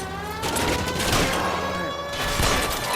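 Sustained gunfire in the L.A. Noire vice case "Manifest Destiny", a dense run of overlapping shots during a vehicle chase, loud and continuous throughout with no clear gaps.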